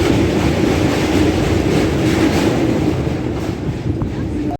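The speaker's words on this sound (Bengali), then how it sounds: "তারকেশ্বর লোকাল 3 নম্বর প্ল্যাটফর্মে দিল।" A Tarakeswar local train pulls into platform 3 at a station, a loud steady rumble and rattle of wheels and carriages that ends abruptly, with no clear talk over it.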